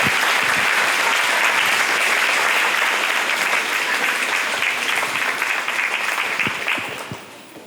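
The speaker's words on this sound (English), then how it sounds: "Please give her another round of applause." A fair crowd applauds the newly crowned Fayette County Free Fair Queen, loud, dense sustained clapping from many hands that holds steady, then thins and fades away near the end.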